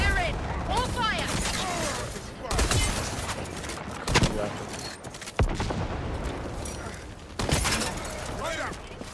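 Gunfire volley in the video game Highguard, bursts of shots and impacts layered over game sounds, with players talking throughout.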